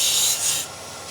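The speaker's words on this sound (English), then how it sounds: "So we use the parting tool." A parting tool cuts into a wooden box spinning on a lathe, giving a brief, bright hissing scrape that eases off and fades to a softer rasp, close and with no talking.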